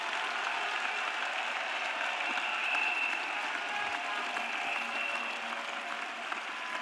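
A church congregation claps for Jesus during an intercession and prayer service, a dense, steady wash of applause from many hands, sustained evenly throughout at moderate distance.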